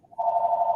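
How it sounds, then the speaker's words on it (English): Telephone ringing in a hockey broadcast booth during a Stanley Cup playoff game, a single short steady electronic ring tone heard clearly and alone. "Telephone."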